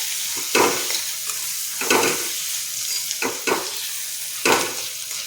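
Tomatoes cooking in a pan for a drumstick and potato curry: a steady low sizzle with about five sharp scraping stirs of a spoon, close by and with no voice.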